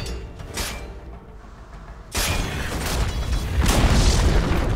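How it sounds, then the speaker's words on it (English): A Dire bottom tower collapses in a Dota 2 match, a loud booming crash that swells into dense rumbling game noise, with another heavy burst following a second later. "Dire's bottom tower has fallen."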